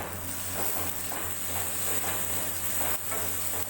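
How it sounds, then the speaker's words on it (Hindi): Ginger garlic paste frying in a pan for chicken karahi, a steady close sizzle and crackle with occasional stirring, no talking. "अदरक लहसुन के पेस्ट को 2 मिनट तक फ्राई करेंगे।"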